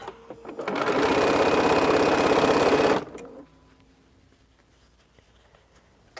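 A sewing machine stitches quilt blocks in a steady, loud burst lasting about two seconds, then stops, leaving quiet room tone.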